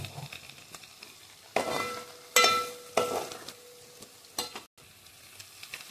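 Garlic fries in a pan until golden, with a soft sizzle broken by several louder bursts of crackling and stirring, close and uneven, and no speech.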